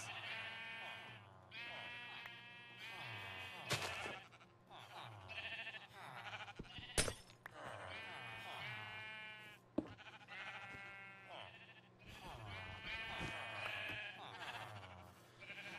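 Minecraft sheep bleat repeatedly in the video game, a run of wavering, nasal bleats of moderate loudness, with a person talking over and between them throughout.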